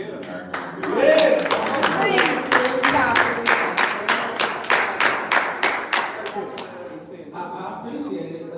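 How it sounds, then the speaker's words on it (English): An audience at a meeting claps in a steady round of applause lasting several seconds, with a voice speaking over the start and the clapping thinning toward the end. "you can keep clapping"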